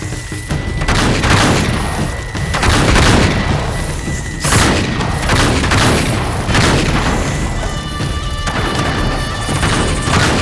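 Heavy gunfire and crashing impacts from the video game Uncharted 3 pound almost continuously at loud volume, with repeated booms and smashes layered into a dense battle din.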